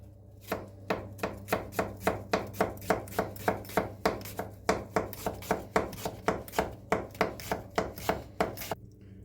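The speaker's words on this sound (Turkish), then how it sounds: "Bunun için önce soğanımızı doğrayalım." A knife chops an onion steadily on a cutting board, about thirty sharp, evenly spaced taps close up, with no talking.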